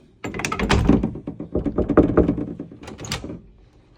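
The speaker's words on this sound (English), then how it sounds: "Open the door quick, okay?" An office door opens with a solid thunk and rattle, followed by a short burst of handling knocks, close and fairly loud with no talk over it.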